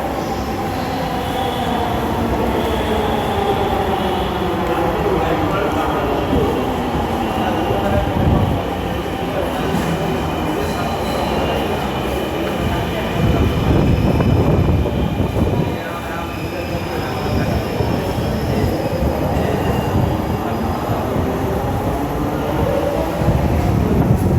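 A metro train rumbles loudly through Agargaon metro rail station, its wheels squealing and clattering without a break, with faint voices mixed into the din.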